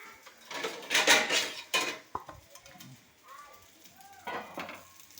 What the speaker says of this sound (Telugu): దాన్ని మూత పెట్టేద్దాం.